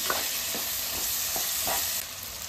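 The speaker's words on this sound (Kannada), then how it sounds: "ಟೊಮೆಟೊ ಫ್ರೈ ಆಗ್ತಾಯಿದೆ." Tomato and fresh curry leaves fry in a pan for a pumpkin palya. A steady sizzle runs throughout, with a few soft stirring scrapes at intervals and no talk.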